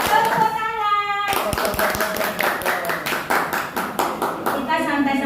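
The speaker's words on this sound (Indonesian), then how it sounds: "Tepuk 1, tepuk 2, tepuk 3, tepuk tangan." Hand claps ring out in a rhythmic one-two-three pattern during a positive-discipline classroom routine. The claps are loud and evenly spaced and are followed by a quick burst of clapping, with voices chanting along.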